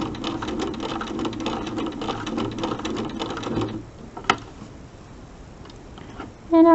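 A sewing machine stitches small pieces of a mini quilt at a slow, steady pace, its close, rapid mechanical chatter running for several seconds before stopping, followed by a brief click and quieter handling sounds.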